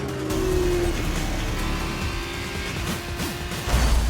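Open-wheel F2 race cars in F1 2019 run wheel-to-wheel, with a steady loud engine drone and whine throughout, shifting pitch as cars jostle, and a sharp thump near the end.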